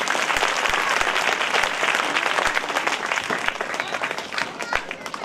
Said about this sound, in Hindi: सभी लोग ताली बजा के